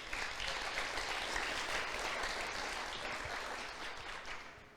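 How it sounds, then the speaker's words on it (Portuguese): A church congregation applauds during a sermon about the autumn feasts, a dense, steady wash of many hands clapping for nearly five seconds, fading slightly toward the end. "Aplaudo o Senhor por isso."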